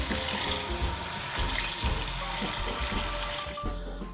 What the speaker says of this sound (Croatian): Izlit ću ovu vodu u kojoj se kuhao i unutra sipati hladnu.